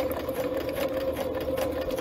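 A sewing machine stitches a basting seam through fabric, a steady fast mechanical whir with a constant hum, close and continuous without pauses.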